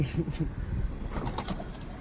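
Pigeons coo in low soft throaty calls close by, with a brief flutter and other faint noise in the background and a person's voice mixed in.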